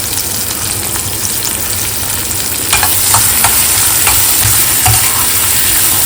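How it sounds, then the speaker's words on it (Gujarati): Asafoetida, onion, crushed garlic and chillies fry loudly in hot oil, a dense hissing sizzle that brightens midway, with a few scrapes and knocks of a spoon stirring the pan. "હિંગ નાખી અને કાંદા નાખી દઉં છું ખાંડેલું લસણ અને મરચાં નાખી દઉં છું"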